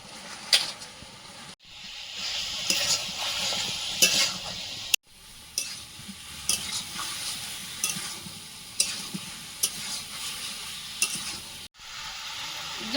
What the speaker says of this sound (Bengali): ওল আলু দিয়ে দেবো এবার পোড়া মশলাটা দিয়ে দেবো